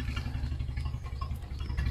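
Exhaust of an old Mercedes car with engine trouble idling, a low steady rumble with slight irregular pulsing, close by and alone without talk.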